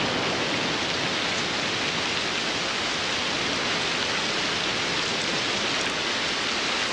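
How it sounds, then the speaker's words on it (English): Heavy rain pours down at the start of the wet season, a dense, steady roar of downpour that stays loud and unbroken throughout, with no voices. "After 4 months, the rains return."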